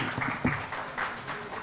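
A short burst of scattered applause from a small group at an award felicitation event, a few seconds of clapping with no talking.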